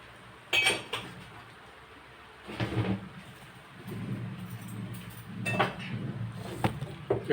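Metal spoons and cutlery clink and clatter in a few separate bursts, with quieter shuffling and handling sounds between them.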